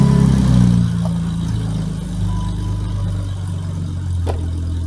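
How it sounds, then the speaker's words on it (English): A BMW E32 730i sedan engine starts cold and settles into a steady, even idle, heard up close with a continuous low rumble and no talking. "Let's see how this is start and cold idle."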